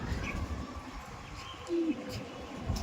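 Andhra red-vein pigeons in a loft give a soft low coo amid faint background rustle and murmuring, one brief rolling call standing out close by.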